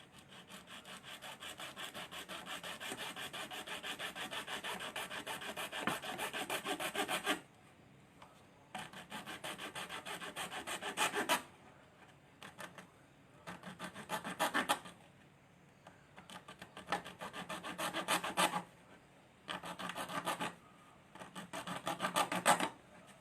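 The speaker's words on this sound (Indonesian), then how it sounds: "gergaji dulu, kita pakai ini." A hand saw rasps steadily back and forth through a plastic pipe connector, first in one long run, then in several shorter bursts separated by brief pauses, close and clear.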